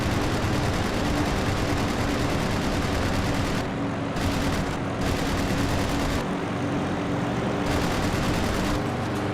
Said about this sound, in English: we are able to destroy the Zero completely via complete and utter just detonation via that 20mm cannon that we hold